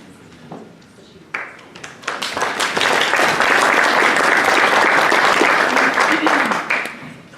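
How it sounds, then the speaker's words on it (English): An audience at a Vietnam War 50th commemoration ceremony at Vinson Hall breaks into applause: a few scattered claps swell into loud, sustained clapping that holds for several seconds before tapering off. "Well, you can keep clapping. Just keep going."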